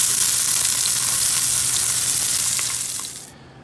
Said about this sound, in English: we're gonna go ahead and sear off the sous vide pork and get it nice and golden brown on all sides